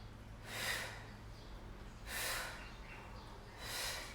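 Forceful rhythmic breaths through the nose during a twisting yoga exercise in a Kundalini flow, three sharp snorting exhales about every one and a half seconds, close and alone.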